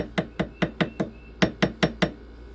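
A ball peen hammer taps metal on a mandrel ten times in a steady, quick rhythm, each strike sharp and ringing, close and clear with no talking.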